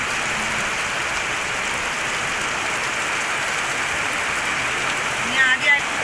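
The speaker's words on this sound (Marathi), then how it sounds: "जोरात पाऊस काय थांबत नाही" Steady heavy monsoon rain falls nonstop in Kerala, an even roaring hiss close to the microphone, with a brief faint voice-like blip near the end.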